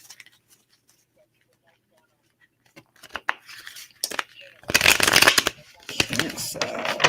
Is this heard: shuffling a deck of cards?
yes